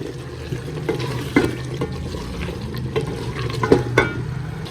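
Meat cooking in oil for aloo gosht, with a steady low sizzle and frying crackle close by and several louder stirring clanks and scrapes spaced through it, no talking.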